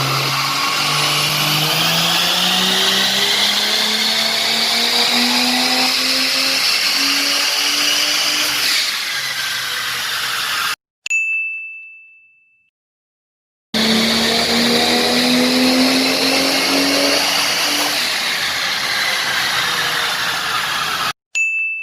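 A car running on E85 fuel is revved hard on a dyno, the engine note climbing steadily through the gears for about ten seconds, then cutting off with a short ding, followed by a second identical loud pull.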